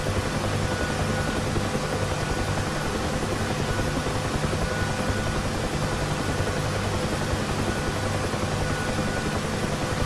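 Bell UH-1H Huey helicopter hovering in a flight simulator, a steady loud rotor and turbine drone with constant broadband whine and low thudding, unchanging throughout.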